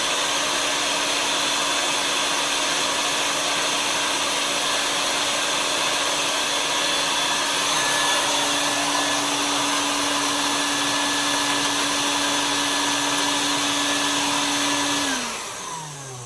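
Cacao bean winnowing machine running its vacuum: a loud, steady whirring whine with a sustained tone that drops in pitch and fades as the machine winds down at the end.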